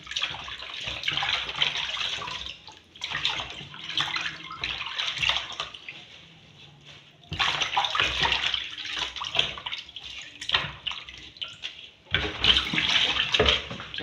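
Soursop leaves are swished and scrubbed in a basin of water with salt. The water splashes and sloshes in several bursts separated by brief quiet pauses, up close and fairly loud, with no talking.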